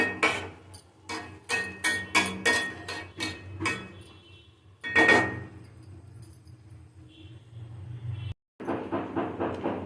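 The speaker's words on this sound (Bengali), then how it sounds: "আর একটু জল দিয়ে দেবো একটু নাড়াচাড়া করে দেবো" Dalia khichdi with vegetables stirred in a pot, with rapid repeated metallic scrapes and knocks of a spoon against the pot, close and clear, pausing and then resuming.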